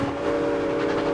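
Steam train whistle from the video game Stacking, a loud sustained tonal blast over rumbling chugging, heard alone without voices.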